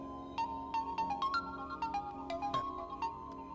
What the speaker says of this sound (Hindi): वानी का फोन है।